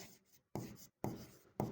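Pen strokes writing accounting entries by hand, heard as three distinct bursts of close scratching separated by short silences, faint and alone.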